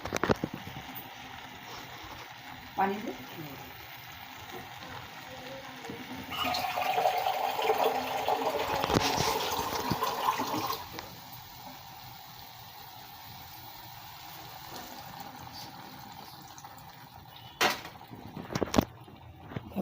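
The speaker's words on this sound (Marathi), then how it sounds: "त्याच्यामध्ये थोडंसं आपल्याला पाणी थोडंसं सोडून द्यायचं" Water pours into a pan of vegetable curry in a steady splashing stream for a few seconds mid-clip, with quieter kitchen sounds and a couple of light knocks before and after.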